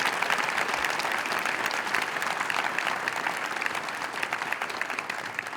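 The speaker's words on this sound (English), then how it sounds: "So let's give our students a round of applause for all of their hard work." An audience at a school pinning ceremony applauds students, a dense, steady wash of clapping from a large crowd that holds evenly throughout with no voices.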